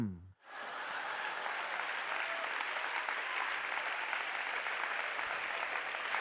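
A brief spoken tone cuts off, then a spiritual discourse audience breaks into sustained, even clapping that continues steadily at moderate distance to the end.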